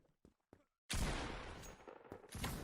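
A sawed-off shotgun fires in the browser shooter Krunker.io: a few soft clicks, then one sharp, loud blast that rings and decays, with another shot rising near the end.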